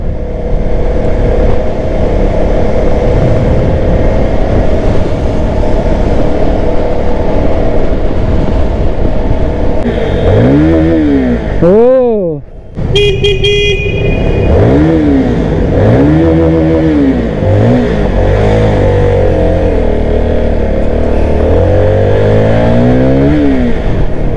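A Keeway K300 N motorcycle engine drones loudly, then revs up and down repeatedly in rising and falling sweeps as it accelerates nearby on a test ride.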